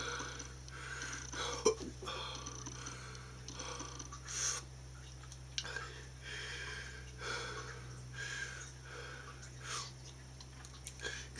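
A man hiccups after tasting 'Ass In The Tub Armageddon' hot sauce. A few short, sharp hiccups and sniffs come at irregular intervals over a steady low hum, with no talking.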